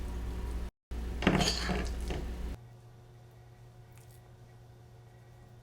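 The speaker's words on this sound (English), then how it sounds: "Now I'm going to use a tablespoon to pack each of these" A tablespoon packs potato filling into baked potato skins, with close scraping and clinking for about two and a half seconds before the sound drops to a quiet near-silence.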